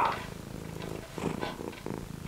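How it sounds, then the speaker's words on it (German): A cat purrs up close with a steady rhythmic rumble throughout, loud and intimate, with no talking. "Hört ihr schnurren?"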